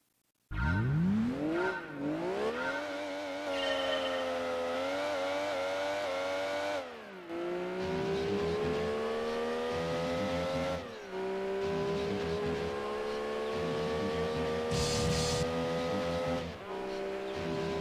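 Mazda Miata on a quarter-mile drag run in Gran Turismo 2, its engine revving up through rising pitch sweeps with gear shifts at intervals, loud and continuous for the whole run.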